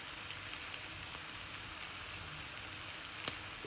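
Chicken fries with green chilies and golden-brown fried onion in a pan, giving a steady, even hiss and crackle of hot oil throughout, with a faint clink near the end and no voices.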